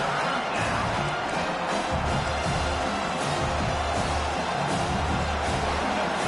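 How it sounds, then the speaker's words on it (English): Home crowd at a college football game roaring steadily as the defense lines up for a third down, a dense continuous wash of cheering and whoops that swells in places without dropping away. "Here comes this home crowd as the defense tries to get off the field on third down."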